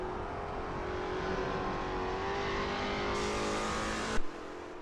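A Lola T70 MkII Spyder racing car roars loudly and continuously in a racing game at Bathurst, its engine note holding high and steady before cutting off abruptly near the end.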